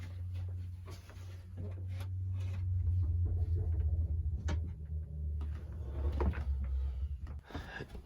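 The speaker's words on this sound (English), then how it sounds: "open up this little door" A small cupboard door is opened, giving a few brief knocks and creaks over a steady low hum, with no talk heard.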